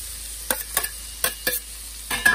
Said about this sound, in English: Ah, yeah, I love that sizzle.